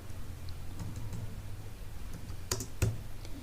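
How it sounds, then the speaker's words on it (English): Keys tap on a computer keyboard during a lesson, with soft scattered clicks over a steady room hiss and a couple of sharper, louder presses near the end. "And typing here the name Athira C."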